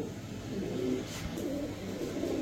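Soft, low cooing of a Rajshahi Giribaz pigeon murmurs steadily throughout, a continuous close rumbling coo with no talking.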